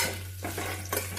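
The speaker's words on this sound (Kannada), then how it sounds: "ತುಪ್ಪದಲ್ಲಿ ಸ್ವಲ್ಪ ಈ ಥರ ಹುರ್ಕೊಳ್ಳೋಣ." Whole spices (shahjeera, pepper, cinnamon, cardamom, bay leaf and green chilli) fry lightly in ghee with a soft sizzle, broken by a few quick scraping stirs of a utensil against the pan, all fairly faint.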